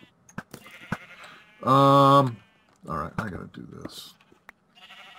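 One sheep bleating in a video game, a single loud, clear, wavering bleat lasting about half a second, set among quiet game clicks and thuds, with someone talking briefly afterward.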